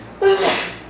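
A single short, sharp sneeze bursts out close by during a lesson, a quick breathy explosion lasting under a second.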